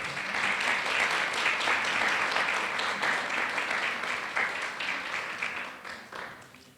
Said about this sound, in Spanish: Y yo quiero que tú mismo te des un aplauso, que te lo mereces